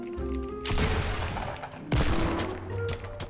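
Gunfire in the battle royale game Fortnite: two loud, dense bursts of rapid shots, the first long and sustained, the second shorter, over a low background of game sound.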